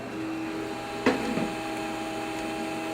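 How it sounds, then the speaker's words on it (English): Samsung M2026W mono laser printer feeding and printing a sheet: a steady mechanical whir with a sharp clack partway through and a softer knock after it. "here we can see the printer is emitting a little bit of noise. It's taking the sheet in and it's spitting it out."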